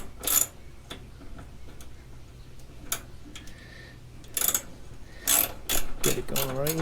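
Screws being driven with a ratcheting clatter into doubled-up plywood 1.5 inches thick on a deck build, heard as several short, sharp bursts of mechanical clicking with quiet gaps between them.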